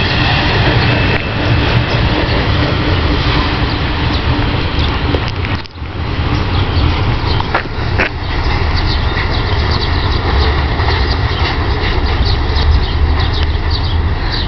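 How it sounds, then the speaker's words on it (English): BNSF ES44DC freight locomotives pass close by with a loud, continuous diesel roar and rumbling rail noise, a brief dip midway, then steady wheel and car clatter throughout with no talk. "So there you have it, folks, the BNSF 7294 and the BNSF 7296."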